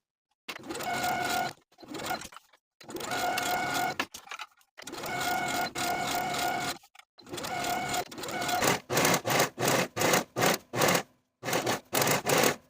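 Sewing machine stitching a peplum onto the bottom of a bodice, running in several long steady bursts separated by pauses, then a quicker series of short stop-start runs, close and clear with no talking.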